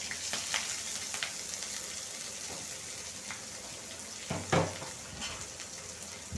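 Onions added with garlic to a hot pan for a fish-head and bottle-gourd-greens curry: a steady, close frying hiss with occasional spoon scrapes and a brief louder sputter, with no one talking.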